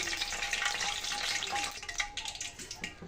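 Mirchi bajji, batter-coated chillies, deep frying in hot oil: a steady, close, crackling sizzle that stays even throughout with no talking.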